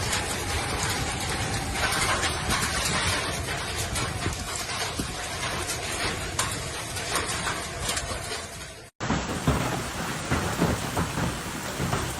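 Massive hailstorm with wind gusts up to 96 km/h battering a suburban area, heard as a loud, steady, dense roar of pelting impacts with sharp clicks and rattles throughout, broken by a brief cut near the end.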